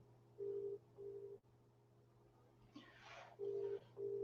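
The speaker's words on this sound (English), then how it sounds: "so now we're going to do a WhatsApp video call" A WhatsApp video call rings out with short, evenly spaced electronic tones in pairs, fairly quiet, over a steady low hum, with a brief rustle of handling noise between the pairs.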